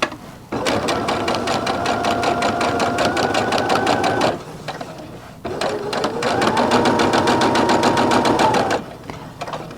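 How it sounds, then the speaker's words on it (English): A sewing machine stitches a patchwork pillow in two long bursts of rapid, even mechanical clatter, near and loud, with a short pause between runs as the stitching goes forward and back. "I'm going to stitch forward and back here."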